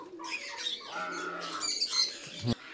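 Pet birds in a home bird colony chirping and calling, a lively mix of close, bright tweets and whistles overlapping one another, fairly clear against a quiet background, ending with a sharp click.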